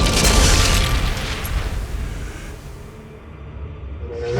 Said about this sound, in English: The icy body of Marge's mother explodes within the dragon